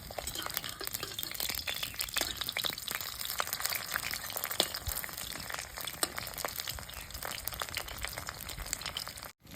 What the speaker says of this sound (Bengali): এক মোড়া ভাজা হয়েছে